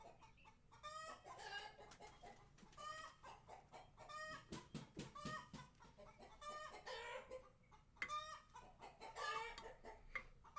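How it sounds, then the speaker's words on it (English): Backyard hens cluck and call to one another in bursts of short, clipped notes, several birds overlapping at close range with brief pauses between outbreaks. "My hens are being really loud right now."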